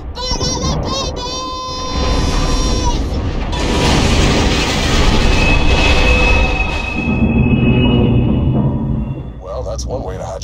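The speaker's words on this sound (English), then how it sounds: "I hear the train coming." A train rumbles past in the Borderlands 2 video game, a loud, sustained roar that swells and holds for several seconds over game sounds, with a voice talking through it.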